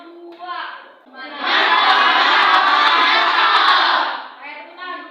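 A classroom of students bursts into loud applause and cheering for a group, about three seconds of dense clapping framed by brief young voices before and after.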